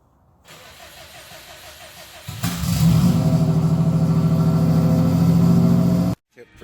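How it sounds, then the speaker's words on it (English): A Subaru car engine cranks and catches, then settles into a loud, steady idle for a few seconds before cutting off abruptly. "let's fire up the Subaru and head up to Matheson."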